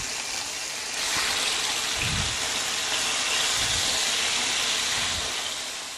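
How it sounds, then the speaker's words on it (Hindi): Half a kilo of chicken dropped into hot oil with cumin in a pot bursts into a loud, continuous sizzling hiss that swells and holds steady, with a few low thuds as the pieces settle and are stirred. "अब इसके अंदर मैं चिकन डाल दूँगी"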